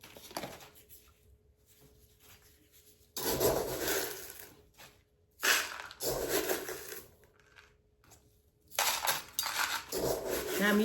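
A plastic plant catch pot being handled clatters and scrapes in several bursts of rubbing and knocking, separated by quieter pauses.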